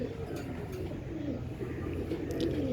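A purebred dub-type female pigeon coos close by in a low, continuous, rolling murmur that carries steadily from start to finish.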